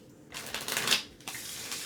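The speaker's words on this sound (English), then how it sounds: "we're actually just going to shuffle it up" A deck of playing cards is shuffled by hand during a street magic trick, a quick flurry of crisp riffling and snapping bursts, fairly close and quiet, with no talking.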